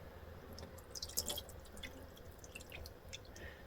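Dharma Caribbean Blue dye is poured into a pot of water holding yarn, giving a steady faint liquid trickle with scattered drips and splashes, close and quiet, with no voices.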